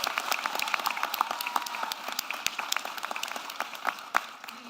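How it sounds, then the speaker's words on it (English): An audience at a press event about Austin's Southwest Airlines deal gives a moderate round of applause, with steady, scattered clapping from a modest crowd that carries on for several seconds before tapering off. "They deserve a round of applause."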